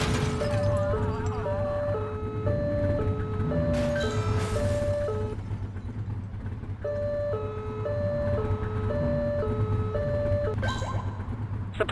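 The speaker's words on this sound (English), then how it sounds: "Get behind them and flip the siren to make them pull over." Police car siren from The Precinct video game, wailing in a steady two-tone up-and-down pattern that repeats throughout, loud and close over a low engine rumble.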